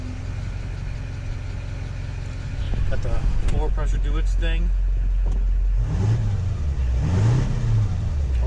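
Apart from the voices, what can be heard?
Duramax diesel truck engine running after oil change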